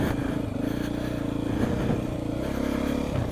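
A Beta motorcycle engine drones steadily while riding, a loud, continuous low rumble with slight throttle variations and some mechanical clatter throughout.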